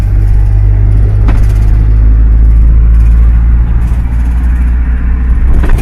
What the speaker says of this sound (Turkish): Şu an aşırı bütün yolun sesi geliyor.